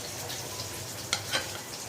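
Rui fish goes into a bubbling curry of eggplant and potato, raising a steady frying sizzle with two brief sharp hissing bursts as the pieces hit the hot pan, close by with no voices.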